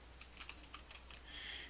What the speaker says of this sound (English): or we just keep typing